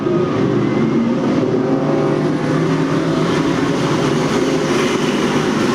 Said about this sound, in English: Nice smooth start, and Carey is the dominant car